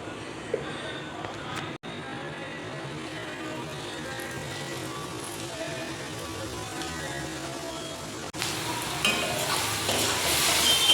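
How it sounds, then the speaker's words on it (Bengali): Oil heating in a wok for ghugni, a steady close sizzle and frying hiss that grows louder toward the end, with a voice talking at times. "এখন তেল দিয়ে দিই।"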